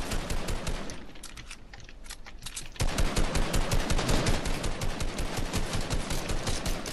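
Rapid bursts of video game gunfire in a building match, a dense steady rattle that thins out briefly near the start, then returns loud and continuous to the end.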